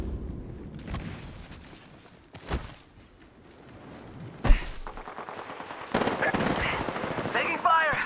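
Gunfire in the video game Apex Legends, with a few sharp shot bursts and rattling automatic fire amid game effects, moderately loud and mixed with voice callouts.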